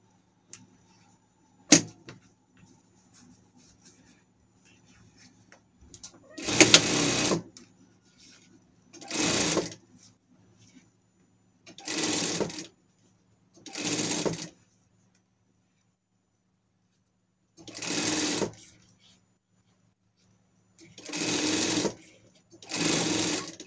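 Sewing machine topstitching a costume, several separate bursts of fast whirring stitches, each a second or two long, separated by quiet pauses, close and clear.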